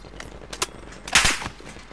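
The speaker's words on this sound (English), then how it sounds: "They're shooting at green for sure." Gunfire in Call of Duty on Rebirth Island comes as a few sharp shots followed by a louder close burst in the middle, fading quickly, with no talking over it.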